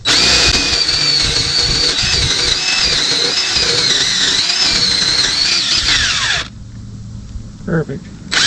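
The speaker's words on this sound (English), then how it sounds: "get these holes drilled out and go from there" A power drill bores holes in a small boat hull, whining loudly and steadily with shifting pitch for several seconds before cutting out, followed by a brief quieter burst near the end.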